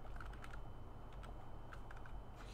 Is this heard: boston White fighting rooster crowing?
no